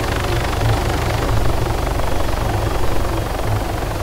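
Helicopter engine and rotor in the video game Arma 3, a loud, steady, dense roar with a throbbing low pulse, continuous and close throughout with no voices.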